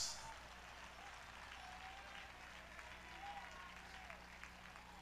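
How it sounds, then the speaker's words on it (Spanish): A church congregation in Managua, Nicaragua claps together, a faint, even wash of applause that holds steady throughout with a distant murmur of voices. "Vamos, aplauda la gloria de Dios."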